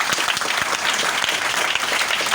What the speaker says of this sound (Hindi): ताली तो बजा दीजिए।